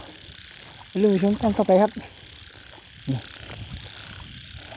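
Frogs croak in a rice field at night in Isan: a loud, close burst of throaty, rapid croaks, then a single shorter croak, over a faint hum of insects. Someone speaks briefly.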